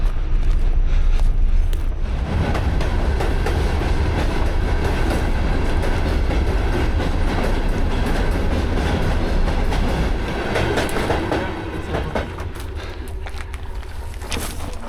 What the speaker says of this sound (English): It's a fucking train!